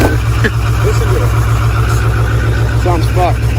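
A four-wheel-drive truck's engine idles loud and close with a steady low rumble, while brief voices come and go over it.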